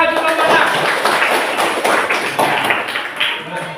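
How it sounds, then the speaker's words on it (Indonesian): A classroom full of students applauds a group, producing dense, sustained clapping that stays loud for several seconds before thinning slightly toward the end. "Tepuk tangan untuk kelompok 6."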